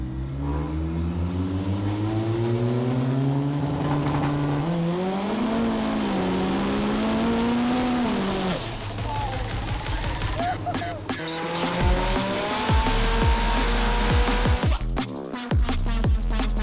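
A twin-engine Toyota Starlet revs hard in repeated climbing, falling pulls, loud and close, with rising harmonic whine, some crackle and a later burst of aggressive throttle blips near the end.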